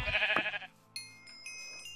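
Sheep bleating in the Minecraft video game, a single short bleat up front followed by quieter game sounds, with no talking.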